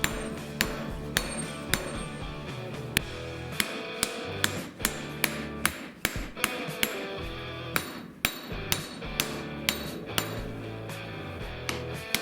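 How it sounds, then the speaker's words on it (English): A hammer strikes hot metal while a mason's pickaxe is forged into an axe beak, ringing with sharp, bright metallic blows at an irregular, roughly one-per-second rhythm, close and loud. "we will cut off excess metal from the pickaxe and forge it into a beak"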